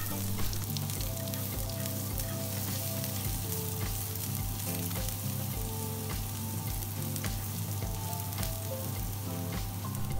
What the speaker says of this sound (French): sur le restant d'huile dans la poêle, on y dépose le gingembre et l'ail